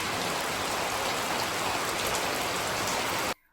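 Heavy, continuous rain pours down in a village morning, a dense steady hiss of drops on surfaces that stays loud and even before cutting off abruptly near the end.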